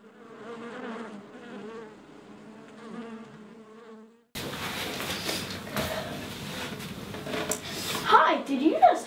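Honeybees inside a hive in spring give a soft, buzzing drone in the first half. Then a louder, busier stretch follows with clinking and rustling, and a voice speaks over part of it.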